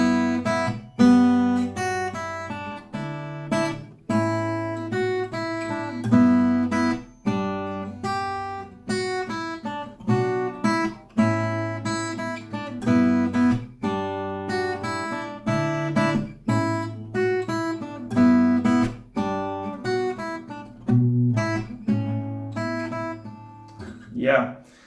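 Acoustic guitar plays a song at full tempo, with denser, rhythmic plucked notes and chords flowing steadily, close and clear, with no voice over the playing.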